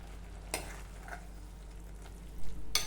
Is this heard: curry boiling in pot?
yes